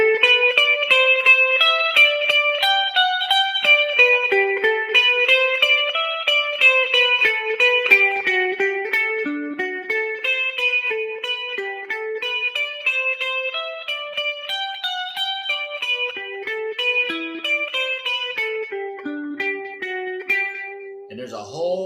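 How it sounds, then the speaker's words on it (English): Electric guitar plays the Carol of the Bells melody with a quick slapback echo, clean picked notes in a steady repeating ostinato pattern, loud and close, ending with a brief scrape of string noise. "I'm going to play it with no echo delay. Just a quick slap back."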